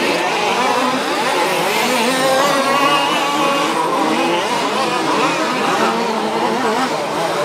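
Small RC race cars whine and buzz continuously around the track during an OR6 2WD German championship final, a loud, dense high-pitched engine drone with tire noise as the cars race close together.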